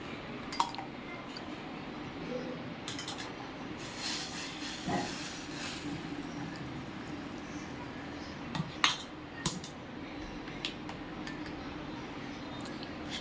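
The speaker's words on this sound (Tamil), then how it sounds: "இதை வந்து நல்லா வந்து வடிகட்டிடுங்க. இப்போ பாருங்கள், வடிகட்டி காட்டுறேன்." Curry leaf drink strained through a metal strainer in a kitchen: a soft steady trickling hiss with a few sharp metallic clinks near the start and around the middle, no voices.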